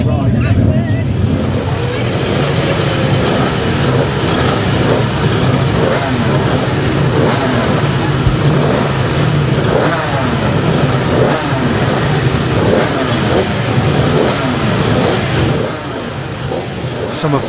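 Racing motorcycles in the Manx Grand Prix lightweight race roar loudly and continuously with dense engine noise, close by, for the whole stretch.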